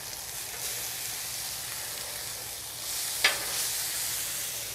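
Burgers and eggs frying on a Blackstone griddle give off a soft, steady sizzle, with one brief sharp scrape partway through and a slightly louder sizzle after it.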